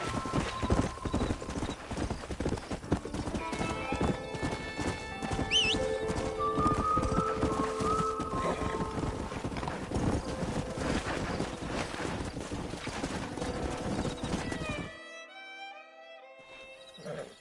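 Horses in the video game Red Dead Redemption clop loudly across ground with a busy hoof rhythm and a neigh or whinny partway through, then the hoofbeats stop abruptly, leaving quieter ambience near the end.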